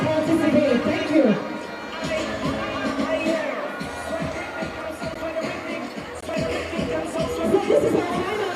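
Stadium crowd at a national athletics championship, cheering and shouting in broad, sustained waves with bursts of excitement, and voices carrying through the noise.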